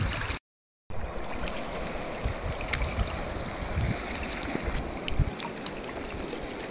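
River water at Dabbaguli flows with a continuous broad rush, close and steady, broken by occasional light splashes and trickles, and no voices.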